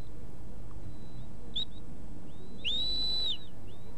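A shepherd's whistle command to a sheepdog at a Welsh sheepdog trial gives a short sharp note, then a longer sustained command tone, high and piercing over steady wind noise outdoors.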